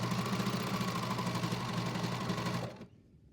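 Serger sewing machine finishing a fabric seam, a steady fast whirring hum running at even speed for nearly three seconds before stopping abruptly, close and alone with no voices.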